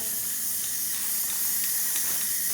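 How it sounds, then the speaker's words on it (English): A steady, broad hiss of Rust-Oleum aerosol spray primer runs continuously and fairly loud, with no voices. "I have Rust-Oleum primer and we're just gonna spray it with this first"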